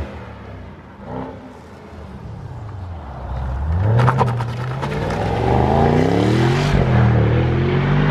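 Interior engine noise from a 2018 Mercedes-AMG E63 under hard acceleration: a deep rumble building into rising, rasping revs that climb sharply high up the range, loud and close with bursts of crackle near the top.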